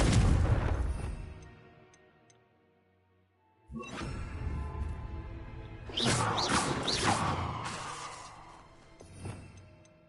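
Fiery spell explosions from the Confringo curse in the Hogwarts Legacy video game: a loud boom that fades into near silence, then more crackling, rumbling blasts with whooshing bursts.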